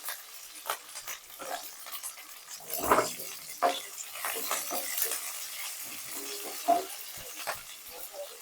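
Vegetables frying in a pan with curry leaves and green chillies added, giving a low crackling sizzle broken by several sharper stirring clatters, close and moderately quiet, no one speaking.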